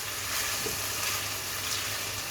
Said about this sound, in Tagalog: Yan, ilagay na natin ang ating garlic. Igisa na natin guys.